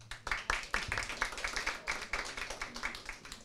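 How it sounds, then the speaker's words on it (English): Small audience clapping for guests from Russia and Finland at an NGO panel event, a scattered patter of hands lasting several seconds at moderate distance, fairly quiet and thin rather than a full roar. "A big applause for them."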